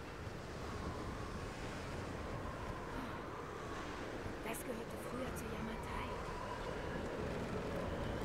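Wind blowing in the video game Tomb Raider, a steady, fairly quiet rushing hiss with faint airy gusts throughout and no foreground voice.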